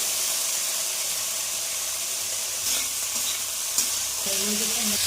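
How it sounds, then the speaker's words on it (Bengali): Yardlong beans frying with salt, turmeric, cumin and coriander powder, a strong continuous hiss and sizzle with occasional stirring scrapes, close up and without speech. "এবার আমরা ভালো করে বরবটিগুলোকে ভেজে নেব"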